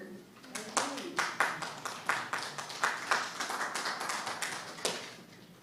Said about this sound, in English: I think Gordon deserves a bigger round of applause